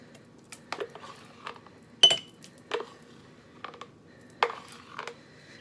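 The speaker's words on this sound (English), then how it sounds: "And then I take it and I put it in my mason jar here." A long spoon scrapes and clinks inside a glass mason jar while scooping thick keto ice cream, making scattered soft knocks and scraping strokes against a quiet background.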